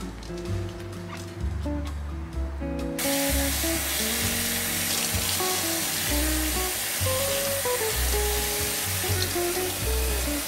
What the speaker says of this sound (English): I just like to soak them a little bit in my fruit and veggie wash and give them a good rinse.